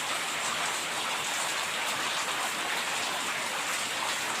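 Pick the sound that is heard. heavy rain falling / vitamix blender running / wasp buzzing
heavy rain falling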